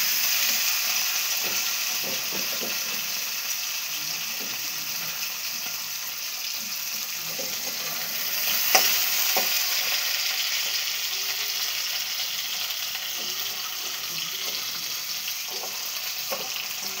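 Black cumin seeds tempering in hot oil give a steady, close sizzle and crackle throughout, with scattered soft clinks and stirring knocks and one sharper tap midway, no voices.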